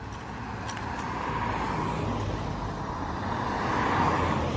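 A car approaches along a city street with a soft, steady tire and engine rumble that swells gradually as it nears, moderately distant, with no talking.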